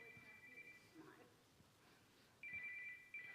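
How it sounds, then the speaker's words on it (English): A phone ringing with a thin, steady electronic trill in two stretches, faint and distant in a large room, beneath a low murmur of voices and background noise. "We have a phone going off for those of you at home."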